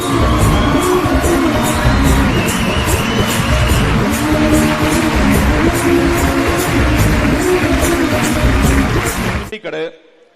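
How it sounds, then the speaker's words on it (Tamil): Crowd at a film trailer launch event with Dhanush, loud sustained cheering, whooping and clapping in a large hall, with shouting voices, cutting off abruptly near the end. "பெரிய கைத்தட்டு"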